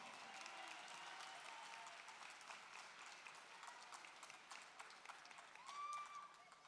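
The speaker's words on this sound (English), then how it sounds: "Let's give all our superlative winners a round of applause." Graduation audience applauds award winners, a fairly faint but continuous spread of clapping from a large crowd, with a brief whistle or cheer near the end.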